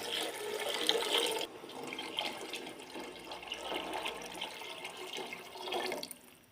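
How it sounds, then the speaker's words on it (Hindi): Water from a glass poured into a large pot of rice for matar pulao, a steady splashing pour that carries on for several seconds, briefly louder at the start, with no talking. "पानी शामिल करेंगे 7 गिलास पानी शामिल करेंगे"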